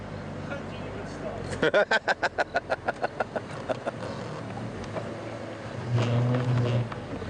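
A Land Rover safari vehicle driving, its engine a steady rumble beneath a series of rapid rhythmic thumps, with people talking over it throughout.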